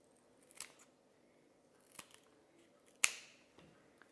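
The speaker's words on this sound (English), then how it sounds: "So I'm just going to snip off." Scissors snip through rose stems in a few separate cuts, quiet and close, the last snip sharpest, with quiet pauses between.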